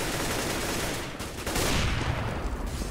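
Gunfire in a professional Counter-Strike match, dense rapid bursts of shots forming a loud continuous fusillade, briefly easing midway before another heavy volley.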